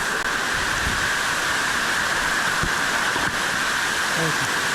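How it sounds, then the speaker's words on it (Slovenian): A waterfall in the Vinadia canyon roars as a constant, close, loud rushing hiss, with a few faint knocks and movements mixed in. "Še en pogled na ta zadnji slap."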